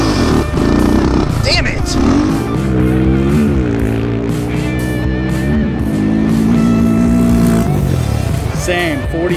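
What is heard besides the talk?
Honda 400EX quad with big bore and cam, second gear launch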